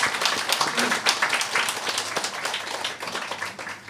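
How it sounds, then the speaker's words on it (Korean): A church congregation claps together in warm welcome for newcomers, a dense, lively round of applause filling the room at a steady level for several seconds. "우리 뜨거운 박수로 환영하겠습니다."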